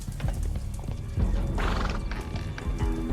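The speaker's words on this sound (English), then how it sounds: "There was an explosion, and my horse startled and threw me back against those wardrobes." A horse in the video game Sherlock Holmes: The Devil's Daughter lets out a loud, close whinny, with clip-clopping hooves and a low rumble running underneath throughout.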